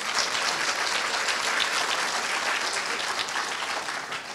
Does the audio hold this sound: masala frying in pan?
no